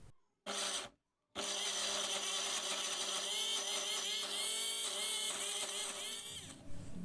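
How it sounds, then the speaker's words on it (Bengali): A mixer-grinder blends a green paste with a little water for a rohu fish dish, its loud steady motor whine running continuously after two brief bursts, with no talk over it. "তো আমি সামান্য একটু জল নিয়ে এবার ব্লেন্ড করে নিচ্ছি।"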